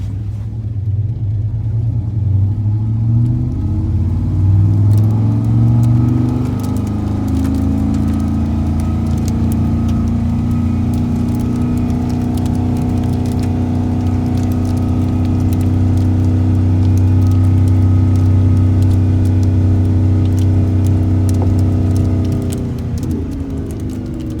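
A 1996 Dodge Ram 1500 pickup truck backing up in reverse, its engine a deep, loud, close rumble whose pitch rises and falls with the throttle, holding a long steady drone before easing off at the end.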